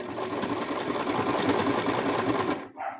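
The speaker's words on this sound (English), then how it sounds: "I'm also going to stop sewing right here." Sewing machine stitching plush monster fabric, a loud, close, steady mechanical whir that runs without a break, then cuts off abruptly near the end.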